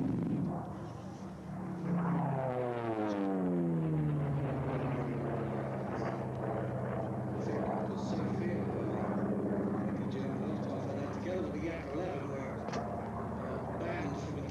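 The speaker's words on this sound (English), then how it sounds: "It's one of the fastest fighters to come out of the war" A World War II fighter flies past at an airshow, its engine drone sweeping down in pitch with a strong Doppler fall as it nears and recedes, loud and sustained over crowd and commentary voices.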